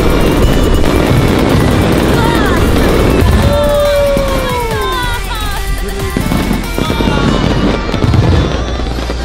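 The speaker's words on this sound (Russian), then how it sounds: "едем на фестиваль фейерверка" Fireworks at a fireworks festival crackle and pop continuously at close range, loud and dense, with a rising whistle and people talking underneath.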